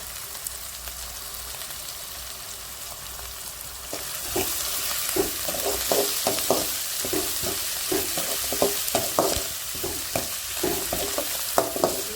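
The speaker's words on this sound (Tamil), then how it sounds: "வெங்காயம் வதங்கிருச்சு" Onions sautéing in a pan for ragi semiya upma, a soft sizzle that grows louder partway through as repeated spatula scrapes and taps join in, close by, with no talking.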